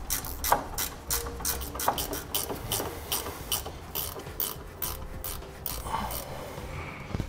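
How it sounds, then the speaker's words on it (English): A 13 mm socket wrench ratchets in quick clicking bursts, close and crisp, loosening the bolts under a 2016 Chevrolet Silverado 2500 during a gooseneck trailer hitch installation. "It's gonna have four bolts that hold it in, and you'll need a 13 millimeter wrench or socket in order to do that."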